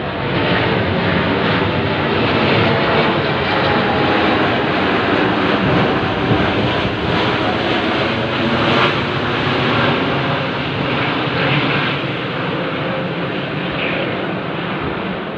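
Loud, continuous drone of aircraft passing overhead, a broad steady roar that holds for the whole stretch without any voices.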